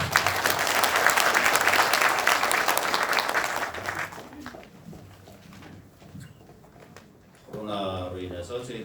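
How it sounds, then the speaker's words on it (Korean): A crowd claps at a university entrance ceremony in Incheon, Korea, with a strong burst of applause lasting about four seconds that thins out into scattered claps, followed by someone speaking. "여러분 큰 박수 부탁드립니다."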